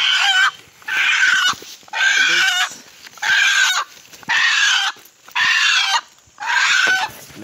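A wild junglefowl caught in a trap squawks and honks in loud, repeated harsh bursts with short gaps between them, close by and with no talk over it.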